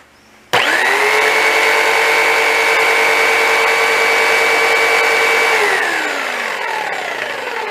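A tabletop saw used for cutting steel, run through a speed controller, starts abruptly and holds a loud, steady high-pitched motor whine for several seconds, then gradually winds down.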